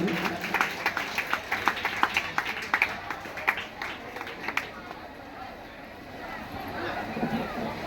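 Students applaud at a school farewell ceremony, a burst of scattered hand clapping in the first half that thins and fades, over background crowd murmur.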